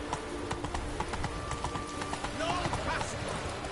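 Roach the horse gallops in The Witcher 3 with rapid, regular hoofbeats close by, while a voice speaks over the clip-clop.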